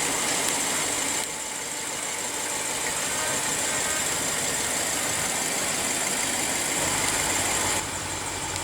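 A 2015 BMW 650i Gran Coupe with a 4.4-litre twin-turbo V8 idles steadily at close range, a continuous even rumble that holds throughout with no talk.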